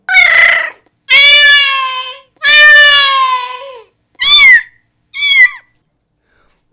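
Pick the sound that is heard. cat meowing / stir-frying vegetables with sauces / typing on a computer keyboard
cat meowing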